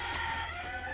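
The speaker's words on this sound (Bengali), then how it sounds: "মুরগিতে ডাকতেছে কেমন করে, সারাদিন এমন করে" A village hen makes a short, close call lasting about a second, a tonal, slightly drawn-out cluck over faint background hum.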